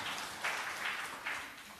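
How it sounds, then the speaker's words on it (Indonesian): Church congregation applauding during a sermon, a steady wash of clapping with a few swells, fairly loud and without talk. "Yang mau tepuk tangan yang meriah bagi Tuhan Yesus."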